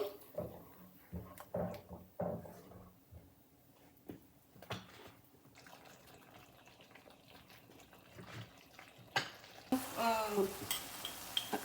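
Dum aloo curry is mixed in oil in a pan, giving a low sizzle with intermittent stirring scrapes and clinks, then a louder, denser frying hiss near the end.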